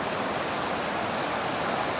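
A small forest stream flows in a steady, soft wash of running water, continuous and moderately close with no other sounds.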